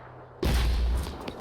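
A gunshot in the tactical game Phoenix Point, fired as a pot shot at a new enemy entry: one loud, sudden boom with a rumbling tail that fades over about a second, close and alone.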